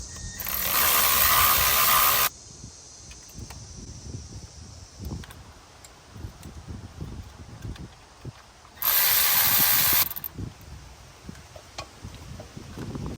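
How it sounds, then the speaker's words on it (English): A power tool whirs in two loud bursts, about two and a half seconds and one and a half seconds long, with clicks and clanks of work between them, while replacing the starter on a 2004–2008 Acura TSX. "To use my power tools now."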